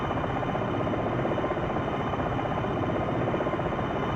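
Simulated attack helicopter from the game Jane's Longbow Gold sliding sideways, a steady, dense rotor and engine drone with a constant buzzing texture throughout, no talking.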